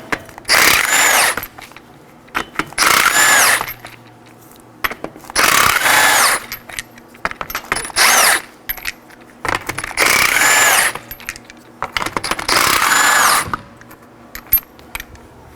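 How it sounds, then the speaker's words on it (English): A power tool with a 21mm socket spins lug nuts off a Nissan Sentra wheel in six loud, close bursts of one to two seconds each, separated by short pauses holding faint clinks and handling noises. "To remove the wheel, we have 5 21mm lug nuts. I'll be using a 21mm socket to remove those."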